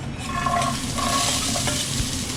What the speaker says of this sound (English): the oil's ready, so we're going to add our mirepoix